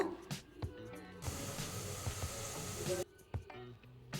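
A steady hiss of onion frying in three tablespoons of oil, loud and continuous for a couple of seconds and then cutting away, with faint stirring clicks before and after.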